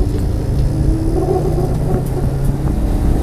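A rally car accelerates hard on a dirt stage, its engine a loud, close, steady low rumble that holds through the whole stretch without a break.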